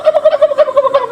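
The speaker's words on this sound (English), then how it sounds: "That's a turkey. Turkey." A turkey gobbling up close, a loud rapid run of about ten rhythmic warbling pulses, clear and alone.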